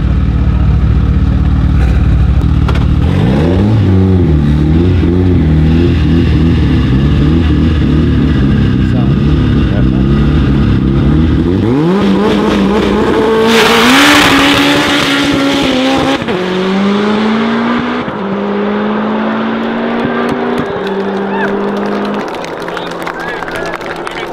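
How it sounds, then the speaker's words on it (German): A Mercedes sports car launches at a one-on-one drag race event in Germany, the engine roaring hard through rising, stepped gear changes at close range, with crowd noise and a burst of tire noise midway. "Der hat eine perfekte Launch Control und springt natürlich einfach nur nach vorne."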